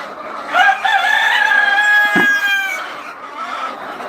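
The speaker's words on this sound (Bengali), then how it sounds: "এখন অবস্থা আমার মুরগির ফার্মের ভিতরে" A hen's drawn-out, strained cackle rings out close by inside a poultry farm, followed by softer clucks, with no talking.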